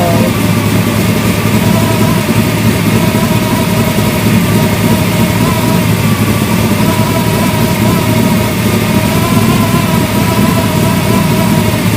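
A car engine idles steadily at a constant cooling temperature of about 190, making a continuous even rumble with a fixed tone, loud and close, with no voices for the whole stretch.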